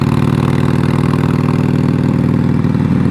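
A Harley-Davidson Forty-Eight motorcycle with a straight-through pipe and no muffler can, its V-twin engine running loud and close with a steady, rapid throbbing rumble and no talk.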